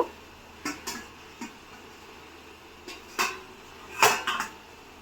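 A lid is lifted off a cooking pot, leaving a few light metallic clinks and clatters spaced apart, with one louder clank toward the end, all quiet and with no talk.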